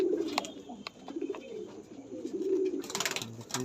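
High-flying breeding pigeons in a loft coo in low, throaty, repeated calls, close and fairly steady, with rustling and brief voices around them.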